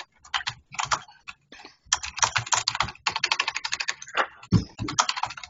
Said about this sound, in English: Can you see me typing that?